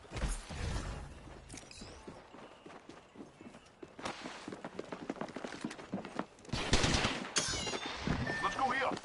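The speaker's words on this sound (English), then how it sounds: "Stand back, knuckle clusters firing." Knuckle cluster weapon firing in a video game, heard as bursts of sharp gunfire with clattering impacts amid a busy battle, loudest near the end, with some speech mixed in.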